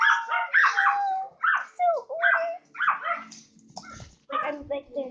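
Several puppies bark and yip close by in quick, uneven bursts, the high-pitched yelps broken by short whimpers and gaps.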